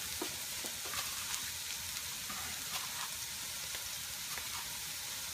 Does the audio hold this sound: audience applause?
no